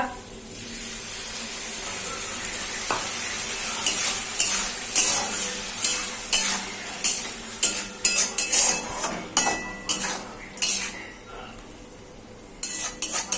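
Mustard paste and potatoes are stir-fried in a pan, starting as a quiet sizzle and building into a quick run of loud spatula scrapes and clanks against the metal, then easing off near the end.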